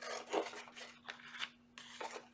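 Scissors snip through craft material in several quiet, crisp cuts, a couple of short strokes followed by a pause and then two more close cuts over a faint steady hum.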